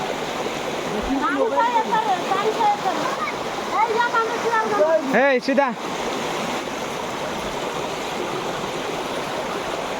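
Stream water flows steadily through the whole stretch in Kauda valley, a close and constant rushing wash. A voice talks over it for the first half.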